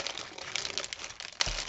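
Close, continuous crinkling of plastic packaging being handled and torn open, with irregular rustles and a sharper crackle near the end.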